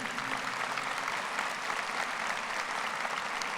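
Parents and guests at a high school graduation ceremony give sustained, even applause, a steady wash of many hands clapping throughout with no break.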